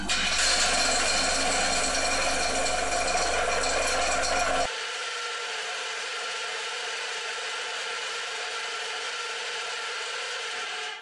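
An HK40 desktop swing mill runs with a loud, dense rattling grind that drops abruptly to a quieter, steady whirring about halfway through, continuing until it cuts off.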